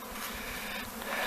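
Honeybees swarming from a hive in Northeast Tennessee, a faint, continuous buzzing drone heard from a distance with no voices over it.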